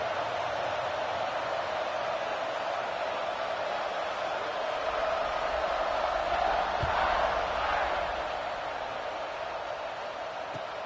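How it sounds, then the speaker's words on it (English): A football stadium crowd buzzes as a dense, steady roar of many voices that stays loud and constant throughout. "this crowd is buzzing after that last score"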